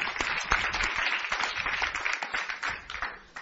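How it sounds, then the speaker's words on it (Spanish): Steady, moderately loud clapping from a church congregation during a Spanish-English service, continuous for a few seconds with no talk over it. "Dele ese fuerte aplauso al Señor."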